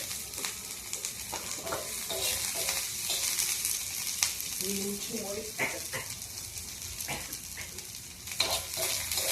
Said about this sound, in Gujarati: આપણે જે સિંગનું તેલ હતું એમાં જ તે લસણ અને લીલા મરચાં નાખ્યા છે.